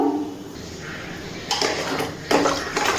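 Chalta pieces being stirred in a cooking pot over a high gas flame, metal spoon scraping and clanking against the pot in a few short bursts over a background hum.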